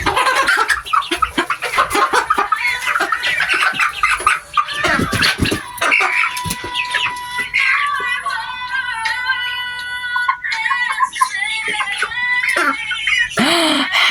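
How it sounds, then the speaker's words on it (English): Backyard chickens waiting for their coop clucking and squawking close by in busy, irregular bursts, with several birds calling over one another and a few higher drawn-out calls. "Happy chicken."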